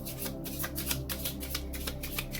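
Tarot cards are shuffled, a dense, continuous riffling flutter of close, rapid card slaps running steadily throughout.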